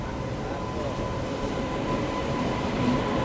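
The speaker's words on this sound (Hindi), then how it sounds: "WAP7 के साथ कामरूप एक्सप्रेस अब आ रही है" The Kamrup Express, hauled by a WAP7 electric locomotive and running from Howrah to Dibrugarh, rolls into a station with a continuous loud rumble of wheels and carriages and a faint squeal near the end.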